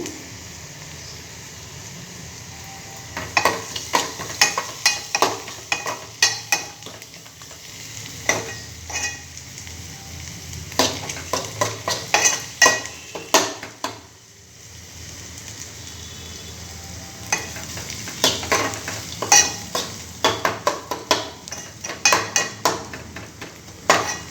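Onions sizzle in a pan with salt and crushed ginger, a steady fry broken up by repeated scraping and clinking stirs of a spoon, near and loud, with no talk.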